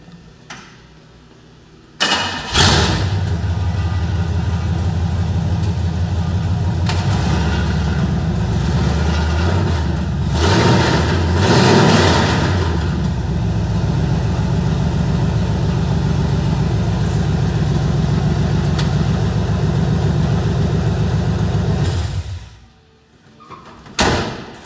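A 1959 Chevrolet Apache pickup with open headers starts up and runs with a loud, steady, rumbling exhaust. There are brief revs in the middle, and it shuts off near the end.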